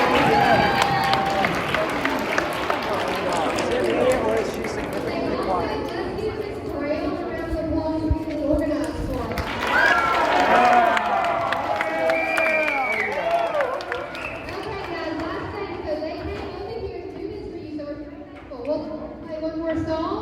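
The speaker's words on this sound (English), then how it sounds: "We did another round of applause." Crowd applause and cheering at a school pep rally showcase with a high school marching band and fourth graders, a sustained din of clapping and chatter lasting the full stretch, with voices mixed throughout.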